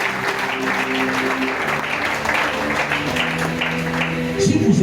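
A church congregation applauding during a worship service, a steady dense wash of clapping throughout with sustained voices or music tones underneath and a swell at the end.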